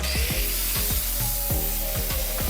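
A Cubitron 2 fibre disc on an angle grinder bites into a square 16 mm steel bar, giving a loud continuous grinding roar with repeated sharp scraping strokes as the disc is worked across the metal.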